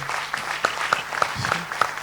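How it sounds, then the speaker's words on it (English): A short burst of audience applause at a head, neck and cancer medical congress session, with steady clapping from a small crowd. "give a very good and huge clap to sir"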